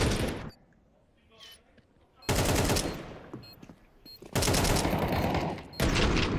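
Gunfire in a professional Counter-Strike match: several loud, rapid automatic bursts separated by quieter gaps, with a few single shots mixed in and a caster's voice talking faintly underneath.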